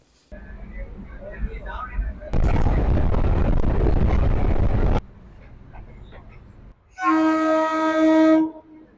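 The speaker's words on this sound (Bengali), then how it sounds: "নৈহাটি থেকে আমাদের ট্রেন ছাড়লো একদম সঠিক সময়ে" A passenger train pulls out of Naihati station. A loud, rumbling rush swells for a few seconds, then quieter running, and finally a sustained, tonal horn blast near the end.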